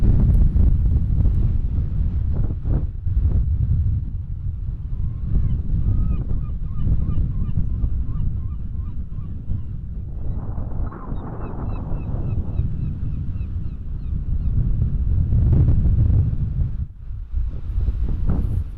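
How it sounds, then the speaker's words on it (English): Strong wind blows outdoors at Howth, Co Dublin, a loud, steady roar buffeting the microphone for the whole stretch, with faint honking birds briefly audible behind it. "The wind is very strong today"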